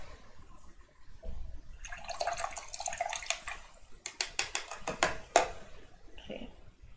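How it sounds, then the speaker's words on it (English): A paintbrush is swished and rinsed in water, with soft sloshing followed by a rapid series of splashy taps and drips, close and fairly quiet. "Don't forget to wash your brush."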